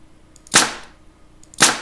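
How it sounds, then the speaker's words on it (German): Two sharp, loud cracks about a second apart, a nail gun firing at a house in the Demolish & Build 2017 game, each a crisp snap with little tail. "Ich schieße mit meiner Nagelpistole aufs Haus."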